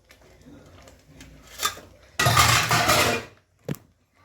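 Paneer added to a pan of gravy and stirred, light clinks of a utensil then a loud wet scraping stir for about a second, ending with a single knock.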